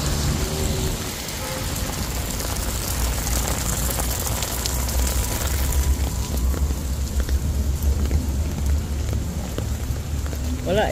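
Rain patters steadily on an umbrella during a storm in Israel, a dense, close, continuous hiss of drops, with a person talking at times underneath.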